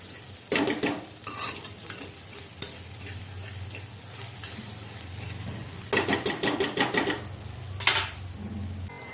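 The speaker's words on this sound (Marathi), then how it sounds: "थोडं अंड्याला आपण शिजून देऊया व्यवस्थित" Egg bhurji of scrambled egg cooks in a pan on a home stove, with bursts of scraping spatula strokes and clinks against the metal over a soft, steady sizzle, alone without talk.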